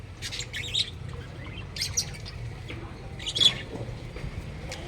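Several birds chirp in short bursts over a low background rumble, with a louder cluster of tweets toward the end.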